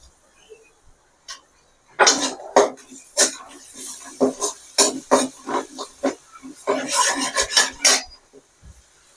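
Onion with turmeric and ginger garlic paste sizzles and scrapes in a pan, a spatula rasping in irregular close strokes after a quiet start.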